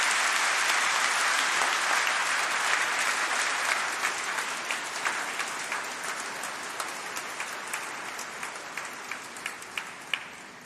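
Graduation ceremony audience applauding warmly, a dense sustained wash of many hands clapping that gradually thins and softens toward the end, with individual claps becoming distinct.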